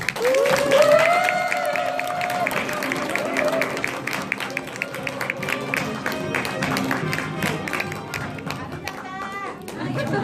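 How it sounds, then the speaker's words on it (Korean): An audience at an indoor talk event applauds and cheers to welcome a guest onto the stage, with loud clapping and chatter throughout and voices calling out over it. "박수 부탁드립니다."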